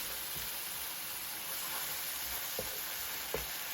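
Stewed roasted tomatoes cooking down in a pan give a steady, close sizzling hiss with a few faint stirring taps, no voices.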